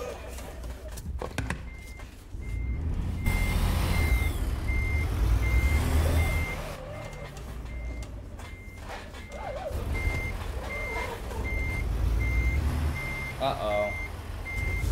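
Repeated electronic reversing beeps from a semi-truck in the American Truck Simulator game ring out at a steady rhythm over a loud engine drone, with brief speech near the start.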